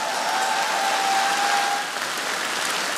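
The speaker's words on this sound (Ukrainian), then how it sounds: "ваші оплески. Оплески." Steady, sustained applause from a comedy-show audience, loud and even throughout with no talking over it.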